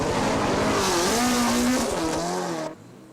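A Nissan Silvia Group C race car, March-based with a 2.1-litre turbo engine, screams past at full speed, loud and close, its pitch sweeping as it goes by before cutting off abruptly.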